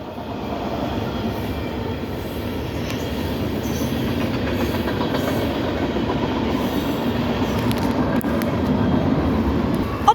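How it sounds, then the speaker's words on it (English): A train rolls past on the rails with a steady, loud rumble and faint clatter of wheels, continuous throughout with no voices. "The train sounds like it's calming down, so maybe this might be the end of the train."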